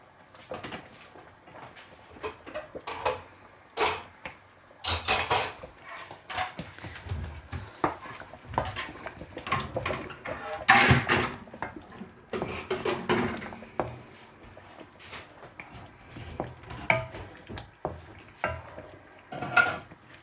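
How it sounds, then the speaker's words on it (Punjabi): Semolina roasting for halwa is stirred in a pan, with irregular bursts of a spoon scraping and clinking against metal, near and fairly loud, separated by short quieter gaps with faint chirping in the background. "ਸੂਜੀ ਦੀ ਭੁਨਾਈ ਹੁੰਦੀ ਹੈ।"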